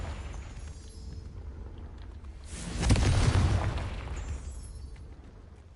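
A Confringo fire spell blasts in the Hogwarts Legacy video game, a single loud booming explosion that swells and rumbles for about a second before fading, over a steady low background hum.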